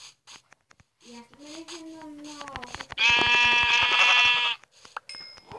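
A sheep's bleat in a survival game, a wavering call that rises into a loud harmonic cry, heard alone with clicks and taps around it.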